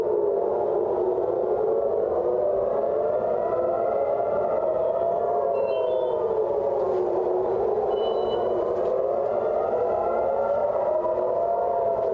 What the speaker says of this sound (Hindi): तेल अवीव में जो है वो सायरन बजता हुआ सुनाई दे रहा है